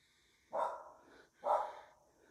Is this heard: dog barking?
yes